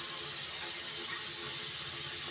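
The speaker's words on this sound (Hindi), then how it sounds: "इसमें थोड़ा थोड़ा सा पानी ऐड करते जाएंगे।" Water runs steadily into a bowl of flour for namak pare dough, a continuous close splashing hiss lasting the whole moment with no voices.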